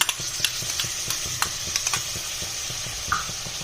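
Fresh homemade curd being stirred into a restaurant-style makhana masala curry in a pan, a steady soft sizzle with repeated scraping clicks of the spoon, close and continuous without talk.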